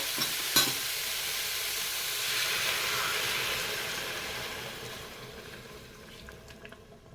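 Veal for blanquette sizzles loudly in a Cookeo multicooker as broth is poured in, a dense close hiss with a sharp clack near the start that slowly fades and thins out.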